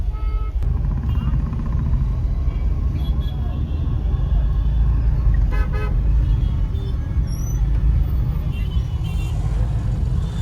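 A car engine rumbles steadily nearby amid road noise, with a few short horn toots and voices in the background.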